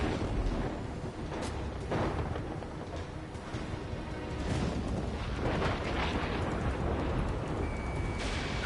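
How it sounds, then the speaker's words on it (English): Missiles and explosions from the flight combat video game Ace Combat 7 roar continuously, with dense rumbling booms and blasts throughout and no talking. "Missile in the air, evading."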